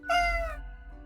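A single clear cat meow from a Death and Taxes game character, loud and close, a drawn-out harmonic call lasting about half a second before trailing into a faint background hum.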